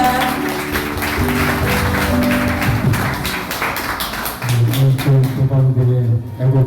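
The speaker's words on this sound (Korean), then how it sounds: "여러분 큰 박수 부탁드립니다." An audience applauds at a political gathering in Incheon's Namdong district, a loud, steady patter of many hands that gives way to swelling music toward the end.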